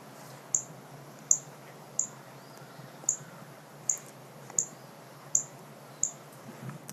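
A northern cardinal gives a run of sharp, bright chip calls, about one per second, steady and insistent, with faint background hiss and no voices.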